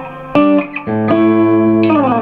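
A Two-Rock guitar amplifier plays sustained clean guitar notes with the reverb send low and return high, giving an open, lingering reverb; several chords ring on loudly and close up.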